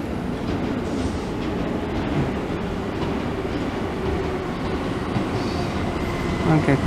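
A Keihan 2400 series seven-car semi-express train, an older model, rolls into platform 3 at Korien station on the Keihan Main Line on a weekday night, with steady wheel rumble and rail clatter swelling slightly near the end.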